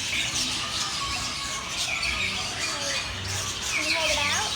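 Birds squawk at a zoo bird-feeding area, with a few scattered shrill calls and chirps over a noisy crowd, while people talk nearby.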